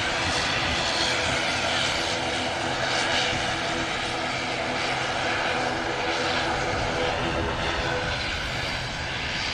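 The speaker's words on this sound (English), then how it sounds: "Another aircraft on approach, just about to touch down, EasyJet." EasyJet airliner on final approach just before touchdown at an airport runway, a steady loud roar of jet engines filling the whole stretch without fading.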